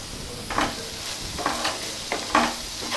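Okra fry being stirred in a hot pan with turmeric and salt, a steady close sizzle broken by four or five scraping spatula strokes at an uneven rhythm, with no talking.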